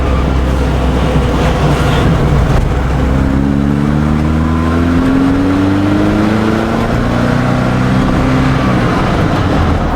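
A car fitted with an Ireland Engineering M10 engine with headers, driven loud and close in stop-and-go traffic, its engine note climbing through rising pitch sweeps as it accelerates and shifts gears repeatedly, with no talk.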